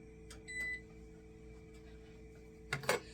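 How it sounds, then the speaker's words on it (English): A kitchen timer gives a short cluster of beeps near the end while fresh potatoes are prepared for freezing, heard over a faint steady appliance hum after a quiet stretch. "I'm going to set a timer."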